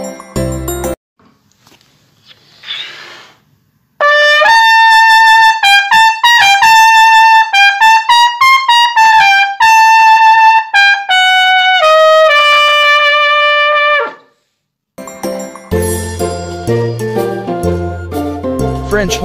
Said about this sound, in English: Trumpet is the smallest and has the highest pitch in the brass family.